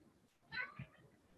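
A cat gives a single short, quiet meow during a whisky tasting, a brief mid-pitched cry followed by a soft low sound over faint room noise.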